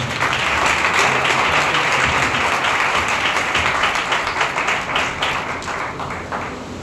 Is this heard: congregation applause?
yes